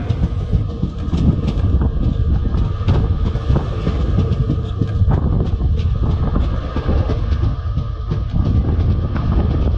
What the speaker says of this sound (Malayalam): നമ്മളങ്ങനെ ആലുവ റെയിൽവേ സ്റ്റേഷനിലേക്ക് കയറുകയാണ്